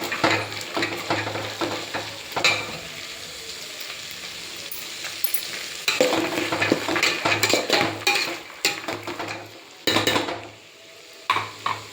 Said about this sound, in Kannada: ಈಗ ನೀಟಾಗಿ ಎಲ್ಲ ಮಿಕ್ಸ್ ಮಾಡ್ತೀನಿ